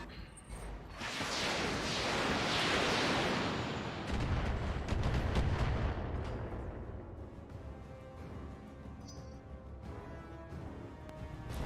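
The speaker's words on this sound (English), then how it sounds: "That was a pretty decent missile volley from that little vehicle." A volley of missiles fired from a small vehicle in the Battletech video game, Roguetech campaign: a long roaring rush of launches and blasts swelling for several seconds, then scattered thuds and crackling impacts fading out, loud and close, no voices.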